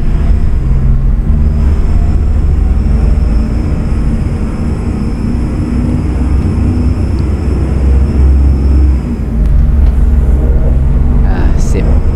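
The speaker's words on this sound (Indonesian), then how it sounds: "jalan sore menggunakan truk Hino 500 tam kargo ya" Hino 500 cargo truck rolling along a road in the evening, heard from inside the cab: a steady loud low engine drone and road rumble with a faint high whine, while someone talks throughout.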